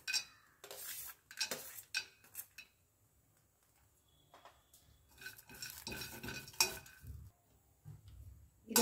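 Peanuts dry-roasting in a pan and stirred with a spoon rattle and scrape in short, irregular bursts of clinking and scratching, close but fairly quiet, with brief pauses between strokes.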